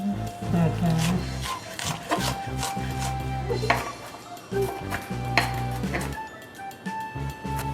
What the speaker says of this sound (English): You know how to chop onions.